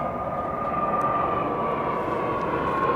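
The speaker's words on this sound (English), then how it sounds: "Oh, that airplane's low." A low-flying airplane passes overhead on a farm as a steady, loud engine roar and drone that holds throughout.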